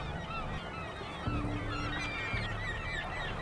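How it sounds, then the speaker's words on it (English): Seagulls and cormorants squawk on a bird-crowded island on Lake Ontario, a dense, continuous chorus of honking, overlapping calls that goes on with no pause. "all the squawking going on in the background. This island is loaded with birds"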